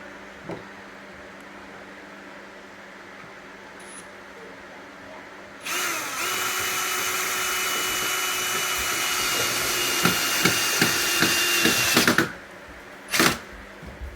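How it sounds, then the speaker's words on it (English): A power drill whirs steadily for several seconds as a long screw is driven into a wood stud, ending with a few short bursts; quiet room tone before and after. "I'm going to drill in with my long, strong screws into the stud"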